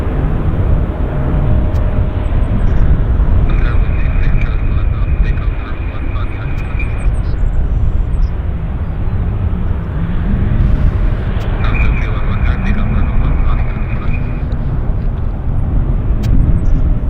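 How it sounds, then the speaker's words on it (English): A plane on final approach into Vancouver Airport, north side, its engine roar steady and broad throughout, close and loud, with a faint tonal whine rising in two stretches. "Got an aircraft on finals, folks."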